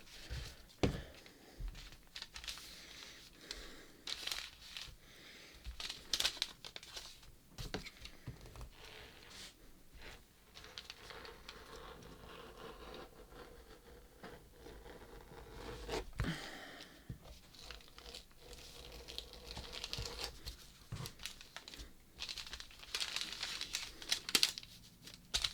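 Paper sewing pattern piece being cut out with scissors for a swimsuit shelf bra, giving close crinkling paper rustles and irregular snipping and handling noises throughout, no talking.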